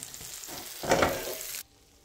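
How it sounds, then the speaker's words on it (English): Shrimp fry for a Sri Lankan seafood meal with curry leaves sizzles hard in hot oil, swelling louder midway as it is stirred, then cuts off abruptly. "the oil is hot, add the shrimp and cook until a thick paste forms and the oil is released"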